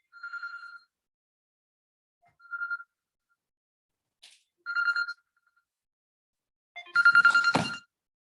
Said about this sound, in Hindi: अब पता नहीं क्यों इसी टाइम सब लीडर्स के कॉल आ रहे हैं, 2 कॉल आ गए हैं, तो मैं फोन को म्यूट कर देता हूँ